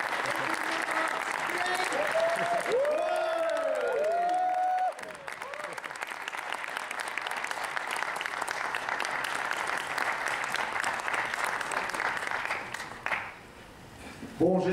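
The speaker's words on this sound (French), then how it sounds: "On peut encore applaudir M. Terrazawa." A convention audience in Monaco applauds manga artist Terasawa with long, steady clapping; voices rise briefly over it early on, and the applause dips and then swells again near the end.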